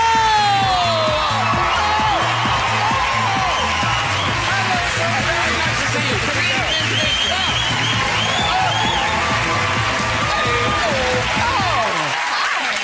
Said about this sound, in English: We're clapping, we're cheering, it's lovely